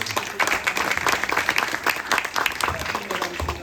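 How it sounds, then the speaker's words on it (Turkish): An audience at an award ceremony for an honorary award breaks into dense, sustained applause, loud and close, with many hands clapping together for a few seconds. "Ve alkışlarımızla uğurluyoruz."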